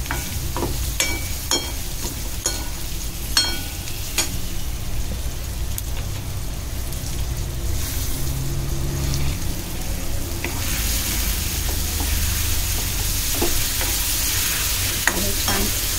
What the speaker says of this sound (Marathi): मुशी 1-2 मिनिटं, 2 नाही 1 मिनिट परतवून घ्यायची